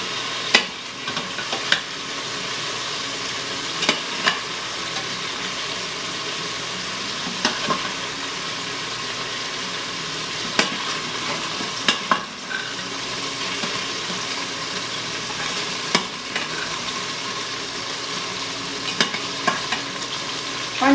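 Beef frying in hot oil inside an Instant Pot, giving a continuous crackling sizzle with scattered sharp pops and occasional stirring clinks across the whole stretch, moderately loud and close, no speech.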